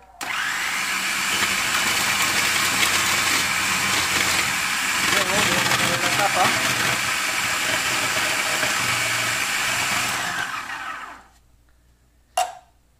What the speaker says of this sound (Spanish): Voy a ponerlo a funcionar y lo voy a poner en la velocidad número 1. Y lo voy a prender.